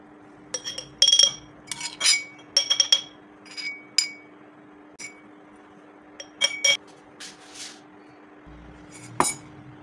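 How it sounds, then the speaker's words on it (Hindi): Desi garlic pounded with a pestle in a mortar, heard as a series of sharp, hard clinks and knocks in irregular bursts, close and fairly loud against a quiet background. "उसमें मैंने देसी लहसुन डाल दिया है और मैं इसको खूब अच्छी तरीके से पीस लूँगी"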